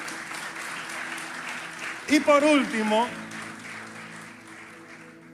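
A church congregation keeps up steady applause for the King under a preacher's voice, which briefly rises loud over the clapping before it carries on at an even level.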